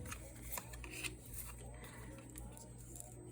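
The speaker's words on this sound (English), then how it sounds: "The cardstock on this makes it really difficult to like shuffle one at a time." Tarot cards with stiff cardstock that sticks together are shuffled by hand in soft, quiet bursts of papery riffling and sliding, close and faint, with no talk.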